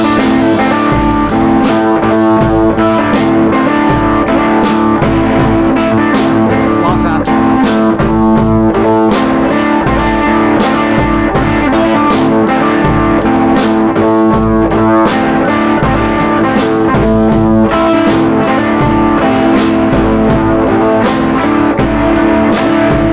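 A fast electric guitar riff from a juke-joint version of a song at about 161 beats per minute, loud, dense and continuous with a driving repetitive pulse throughout.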